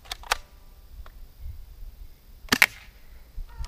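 Air guns fired in a volley at Crosman targets: a few sharp snapping pops, one early and a tight cluster near the end, with quiet gaps and light handling noise between.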